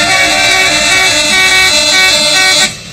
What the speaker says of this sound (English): Could we see what one of the car horns sounds like?